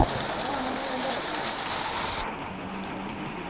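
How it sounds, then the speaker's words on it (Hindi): Heavy rain pours down steadily outside a temple compound, a dense close hiss heard from under a shed, with what may be pigeons cooing faintly in the background. "बहुत ज़ोर की बारिश हो रही है"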